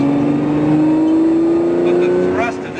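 A Lamborghini Murcielago engine revs up with a loud, smooth rising tone heard from inside the car, building steadily over a few seconds.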